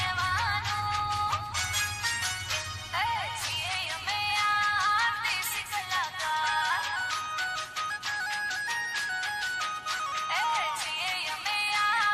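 A mobile phone rings close by, its bright electronic ringtone melody repeating steadily and alone for the whole stretch, fairly loud and uninterrupted.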